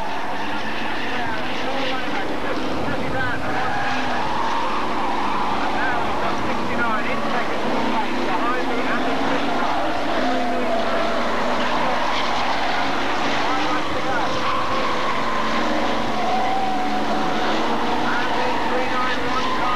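Hotstox race cars lap an oval track at Birmingham: a continuous, dense roar of engines runs for about twenty seconds with swelling passes, as a commentator talks throughout.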